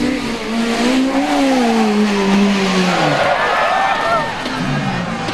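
Rally car on the Lurgan Park stage in 2003, engine note sweeping up and down through a slide with tyre noise, loud and close, with a commentator talking over it throughout.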